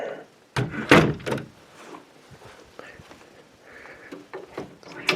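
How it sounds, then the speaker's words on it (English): An indoor door swings shut with a loud thud, followed by a few fainter knocks and shuffling movement in a quiet room. "Close one door."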